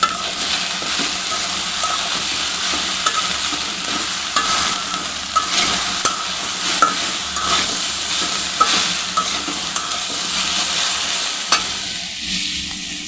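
Okra stir-fries with turmeric in a pan, producing a loud, steady close sizzle broken by repeated stirring scrapes and utensil knocks against the pan throughout.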